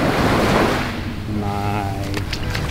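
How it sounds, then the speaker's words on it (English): Sea waves wash onto a beach in Dubai on Christmas Day, a loud rushing surge that fades into softer churning water with wind buffeting the microphone and a brief voice near the end. "Just watch the wave."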